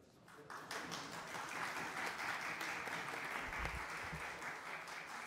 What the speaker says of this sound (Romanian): Vă mulțumim foarte mult pentru aplauze.